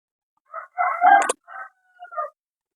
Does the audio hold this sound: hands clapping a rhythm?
no